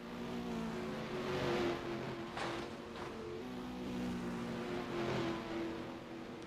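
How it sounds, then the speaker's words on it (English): Race cars roar past at a distance on the Autódromo Internacional de Tarumã circuit during a GT race, engines droning and swelling steadily with no voices. "We will let you guys enjoy the sound of the racing"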